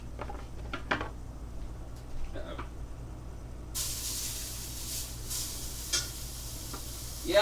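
Pieces of meat and potatoes dropped back into a hot pan on a home stove, setting off a steady broadband hiss of sizzling oil with a few clinks of utensils, close and moderately loud.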